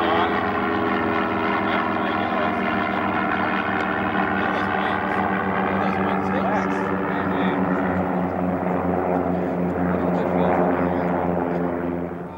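Voyager aircraft with piston propeller engines taking off, a loud, sustained droning engine tone with steady harmonics that holds throughout and fades slightly at the end, with a voice speaking over it.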